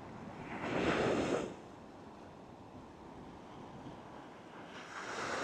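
Ocean waves roll onto a beach just south of Lahaina harbor on Maui, one surge swelling loudly near the start and another building at the end, with steady wind rush between them.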